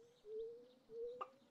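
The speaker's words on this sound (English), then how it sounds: "Oh, wait, no, that was a duck." A duck in the Stardew Valley farming game gives two soft, drawn-out tonal calls, faint and evenly spaced, followed by a short click.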